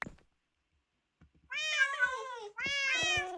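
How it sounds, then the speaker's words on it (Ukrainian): Cats meow in a Minecraft lucky blocks game, with two long, loud overlapping meows close up after a moment of silence. "Багато-багато котиків."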